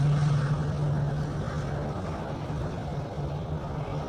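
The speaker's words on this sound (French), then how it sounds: "le Super Tucano s'élance pour un circuit de 4 tours à 1000 pieds" An Embraer Super Tucano turboprop military trainer flies a low circuit at about 1000 feet, a broad steady engine and propeller roar with a constant droning tone, loud and gradually easing.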